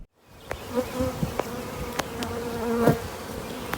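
Honeybees buzzing around a beekeeper's hives outdoors, a steady droning hum with individual insects swelling louder as they fly close by.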